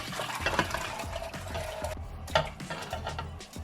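Peas with their liquid are poured into a pot for Jamaican stew peas with pig tail, a faint sloshing and stirring sound with soft clinks against the pot.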